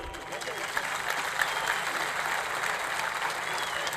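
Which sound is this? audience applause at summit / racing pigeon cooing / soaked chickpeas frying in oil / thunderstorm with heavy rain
audience applause at summit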